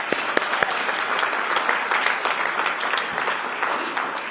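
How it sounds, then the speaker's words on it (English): Audience clapping at a DC250 Full Democracy luncheon hosted by Mayor Muriel Bowser, a lively, close burst of many hands with sharp individual claps standing out, holding steady for a few seconds. "Give everybody a big round of applause."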